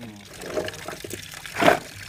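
Water poured over harvested carrots, a short gushing burst near the end with quieter splashing earlier, under a man's speech.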